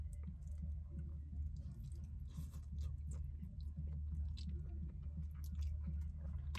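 Close, wet chewing and biting of Panda Express Kung Pao chicken and chow mein, soft squishy mouth sounds repeating steadily over a low room hum, with no talking.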